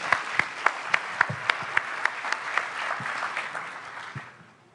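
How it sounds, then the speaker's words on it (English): Conference audience applauding commitment makers at a business presentation: a few distinct sharp claps at first, then a fuller burst of clapping that thins and fades out at the end. "Let's give a round of applause to the commitment makers."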